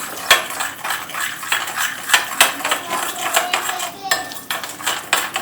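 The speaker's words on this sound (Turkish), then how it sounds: "Ve bu karışımı sütle böyle açıyorum." A spoon stirs a spice mixture of black pepper, chili flakes and oil loosened with milk in a bowl, making rapid, close metallic clinks and scrapes in an irregular rhythm.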